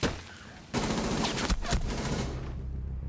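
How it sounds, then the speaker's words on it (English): Gunfire rattles in dense bursts during a Rainbow Six Siege match, rapid overlapping shots in a quick exchange that fades near the end, with no talk over it. "quick, brief exchange of gunfire."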